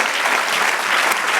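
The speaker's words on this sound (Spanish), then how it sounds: "Dale un aplauso al Señor." Church congregation applauding the Lord during a sermon on scripture, a dense, steady wash of clapping that fills the short moment without a break and with no voices rising above it.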